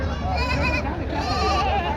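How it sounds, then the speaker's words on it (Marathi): Goats bleat at a crowded livestock market in Parbhani, with overlapping wavering cries up close and more animals farther off, over a constant murmur of crowd noise. "आज चार शेळ्या आहेत."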